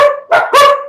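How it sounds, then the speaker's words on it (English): A dog barks loudly and close by, three sharp, separate barks in quick succession with no talk. "Dogs are freaking out."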